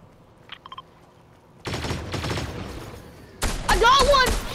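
Fortnite gunfire in a squad match, starting as a burst of shots that continues steadily and then grows louder and sharper near the end. A few faint clicks come earlier, and the shooting stands mostly alone.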